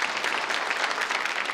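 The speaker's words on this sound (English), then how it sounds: "Let's have another round of applause for Eleanor Brown." Sustained audience applause fills a theatre after a comedy stage performance, a dense, steady clapping from a full crowd with no pauses.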